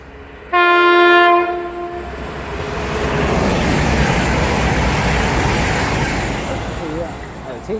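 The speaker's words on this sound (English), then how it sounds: "now passing by is 1 Foxtrot 48, the 1556 East Midlands train service" An East Midlands passenger train sounds a loud horn blast, then rumbles past close by at Bedford station on the Midland Main Line with a steady, broad roar that slowly fades.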